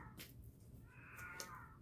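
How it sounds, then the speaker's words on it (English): A cat shut in a bathroom meows loudly, wanting out: two drawn-out, strained yowls, fairly close in a small room with low background hum. "My cat is in the bathroom and he is making a lot of noise. He wants out, so he is screaming."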